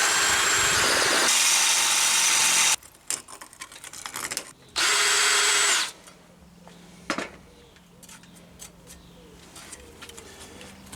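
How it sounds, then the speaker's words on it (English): A power drill with a step drill bit whirs loudly in long bursts biting into metal for trike light brackets, with pauses, clanks and handling noise between runs. "I thought my half step drill struggled a little bit there"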